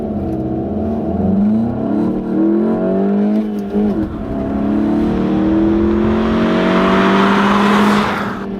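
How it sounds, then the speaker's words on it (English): A manual-transmission VW Golf Mk7 pulls hard from a standstill to 60 mph, the loud engine note rising through the revs, dipping at a gear change around four seconds, then climbing again with strong road and wind roar. "So here we go for a 0 to 60 run in the Mark 7 Golf with manual transmission"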